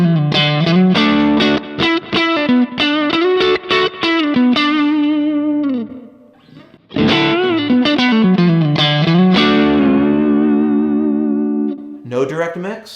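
Electric guitar through a Kemper profiler with direct mix blended in, playing rapid picked bursts and sustained bent phrases, loud and effected, with a short dip in the middle.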